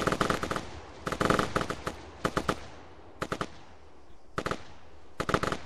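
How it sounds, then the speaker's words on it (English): Loud bursts of automatic gunfire from the military video game Arma, several sharp rattling volleys separated by short pauses, close and dominant with no talking. "that gunfire is really loud, isn't it?"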